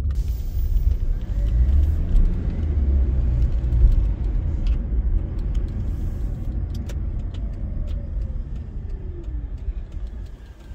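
Steady low rumble of a ride-hailing car's engine and road noise while driving through Paris streets, heard from inside the cabin, continuous and fairly loud with no talk.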